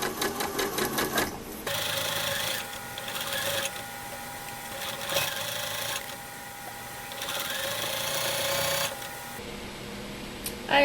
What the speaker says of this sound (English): Do a back stitch